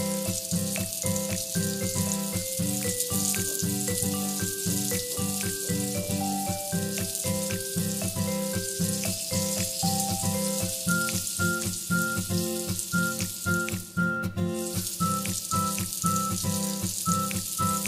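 Frozen pork, blanched first, sautés in a pan for sinigang with a loud, steady sizzle and crackle that lasts throughout, while light background music plays underneath.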